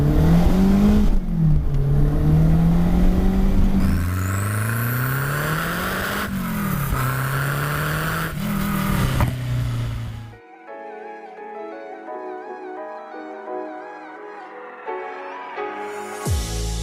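Renault 5 Turbo 2 Group B homologation car revving hard through rising and falling engine sweeps while driving, loud and close, then the engine cuts away to a quieter passage near the end.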